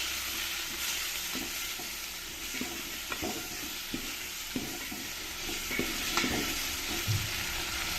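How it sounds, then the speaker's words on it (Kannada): Chopped tomato sizzles in hot oil with an onion tempering for village-style kootu saaru, a soft, steady frying hiss broken by light scrapes and taps of a spoon stirring the pan. "ಟೊಮೆಟೊ ಎಲ್ಲ ಸ್ವಲ್ಪ ಚೆನ್ನಾಗಿ ಮೆತ್ತಗಾಗೋವರೆಗೂ ಇದನ್ನು ಸ್ವಲ್ಪ ಫ್ರೈ ಮಾಡ್ಕೋಬೇಕು"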